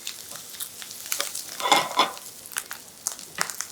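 Food stir-fries briskly in a hot pan, a crackling sizzle with rising bursts of scraping and tossing, close and fairly loud, without speech.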